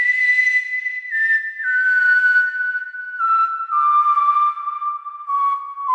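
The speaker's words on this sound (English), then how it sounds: "We got also a new instrument, whistle. It goes like this in Omnisphere," A synthesized whistle instrument preset called Psychopathic Whistle in Omnisphere plays a slow descending melody, with clear sustained pure tones stepping down in pitch, loud and alone.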